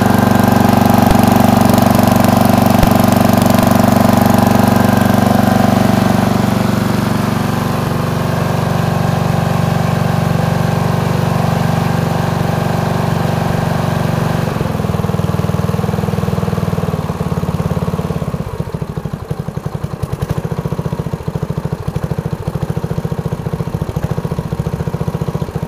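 A snowblower engine runs steadily after a cold start, giving a loud, continuous, close drone that holds for the whole stretch and shifts slightly in tone partway through, with no voices.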